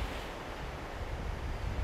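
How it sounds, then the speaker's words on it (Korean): Steady, broad roar of South Pacific surf against cliffs at Bondi Beach, Sydney, with wind noise, continuous and fairly loud, with no distinct individual wave breaks standing out. "남태평양의 푸른 파도가 절벽에 시원하게 부딪히고 있다"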